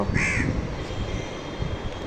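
A crow caws once from a rooftop near a stairwell, a loud, harsh call standing out over steady outdoor background noise, with no talking.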